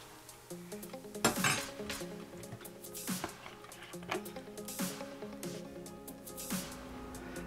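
Fried okra being moved from the fryer into a pan, with repeated metallic clinks and scrapes of utensils against cookware, light oily drips and squishes, close and moderately quiet.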